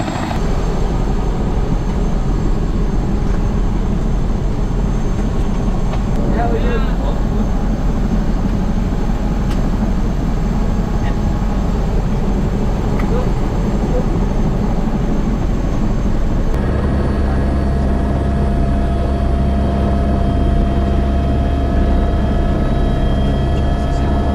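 Steady, loud helicopter rotor and engine drone fills the whole stretch, shifting in tone partway through as the aircraft changes pitch, with no voices.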